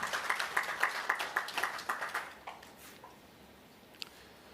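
Brief round of applause at a regional sustainable energy conference for delegates from Seychelles: a handful of people clapping in a fairly quiet hall, the claps fading out after about two seconds into room tone.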